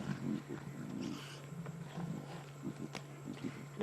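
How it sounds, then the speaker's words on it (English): A lioness growls low and deep over a carcass during an evening safari drive, a rough rumbling roar that rises and falls in several pulses, fairly close, against steady outdoor background noise with faint rustling and movement. "Getting a deep growl from Mom there."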